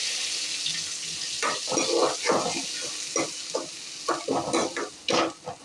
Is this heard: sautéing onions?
yes